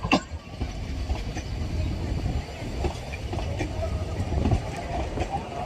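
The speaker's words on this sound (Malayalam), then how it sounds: "കൂനൂർ ഭാഗത്തു നിന്ന് വന്നുകൊണ്ടിരിക്കുന്ന ട്രെയിനാണ് ഇത്." A newer-model train coming from Coonoor rolls into Lovedale railway station with a steady rumbling and clatter of wheels on rails, fairly close, while people talk nearby.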